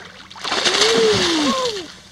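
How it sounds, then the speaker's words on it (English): A hooked redfish of around 28 inches splashes at the surface while being fought from a boat, a close burst of sloshing water under a voice that is talking. "Nice splash, nice splash."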